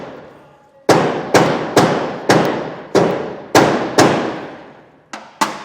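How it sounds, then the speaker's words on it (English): A hammer taps repeatedly on a metal cap during installation of a DeeMaxx disc brake kit on a trailer, with about ten sharp, loud, evenly spaced strikes in a steady rhythm, each ringing briefly. "We're going to take a hammer."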